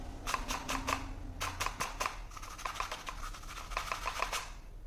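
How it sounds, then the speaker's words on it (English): A polisher with a coarse Rupes heavy cutting pad works car paint on a Kia Sonet, giving a quiet rhythmic scratchy chatter of repeated short strokes over a low steady hum. "This indicates it's a coarse pad or heavy cutting pad."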